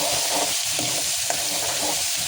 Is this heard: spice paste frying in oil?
yes